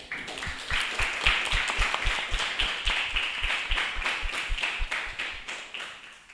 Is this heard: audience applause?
yes